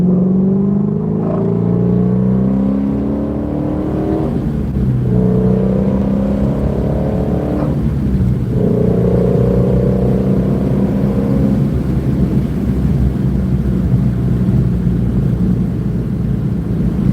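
A Shelby GT350 accelerates through the gears, its exhaust heard from inside the cabin as a loud throaty roar rising in pitch several times, with brief dips at each shift, over steady road rumble.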